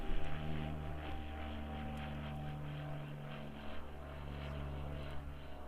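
A Tecnam propeller light aircraft flies past near Christchurch Airport, its steady droning engine hum with low harmonic tones holding at moderate distance throughout, with no talk.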